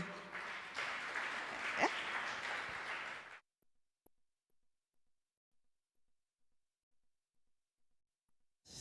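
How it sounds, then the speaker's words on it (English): Audience applause from a crowd at a live stream event, a steady dense wash of clapping lasting a few seconds before cutting off abruptly into near silence. "Can you clap for yourself?"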